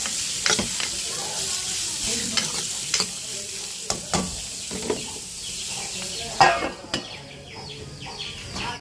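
Beetroot fries in a pan with a continuous sizzle, broken by repeated scraping stirs and spatula taps at an uneven rhythm, close and fairly loud, with no talk.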